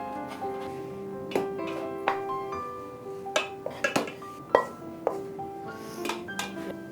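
Cooked besan mixture scraped from a hot pan onto a broad plate, a series of scattered metallic clinks, knocks and ringing scrapes of utensil against pan and plate, fairly close in a quiet room.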